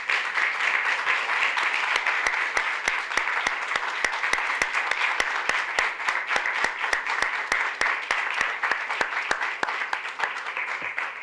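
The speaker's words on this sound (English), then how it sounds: "So I definitely want to give our mayor a round of applause." An audience applauds the mayor at a youth government swearing-in ceremony, with sustained, dense clapping from a crowd throughout, fairly loud and even, with a few individual claps standing out sharply near the front.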